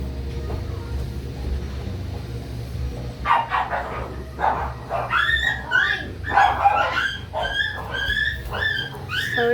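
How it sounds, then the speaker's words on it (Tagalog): Dogs scuffle and bark near a playground, sharp yips and snarling barks bursting repeatedly over a low background hum, growing busier and more agitated after a quiet start. "Nag-aaway pang mga aso guys."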